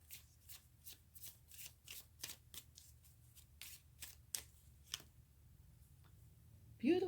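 Tarot cards are shuffled close up in a quick, crisp riffle of about a dozen snapping bursts, then a short pause before a voice begins at the very end.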